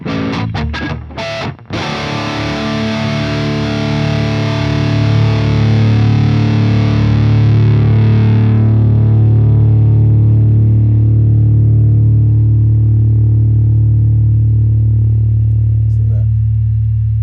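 Distorted electric guitar played through an aiXdsp Multi Band Gate, a few sharp choppy hits followed by one loud sustained chord ringing out long and steady, then fading as its upper overtones drop away.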